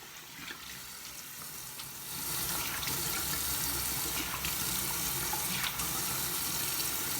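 Bathroom tap water running while a face is washed, a soft hiss that swells after a couple of seconds into a steady close rush with a few splashes.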